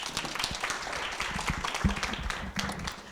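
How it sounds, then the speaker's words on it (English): An audience at an International School of Kuala Lumpur event applauds, a dense, even wash of many hands clapping that carries on steadily throughout. "please give yourselves a round of applause for your great work"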